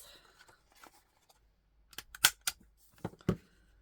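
Scissors trim paper card for a double slider card, giving a few faint rustles and then a cluster of sharp, close snips and crisp cuts.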